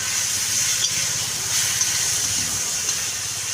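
Green chilli, onion, tomato and ginger frying in a pan at home, a steady loud sizzle and hiss with a few soft stirring knocks, no voices.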